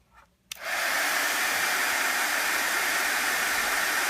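An embossing heat tool for card making switching on after a brief quiet moment, then blowing a steady, loud, close hiss of hot air without a break.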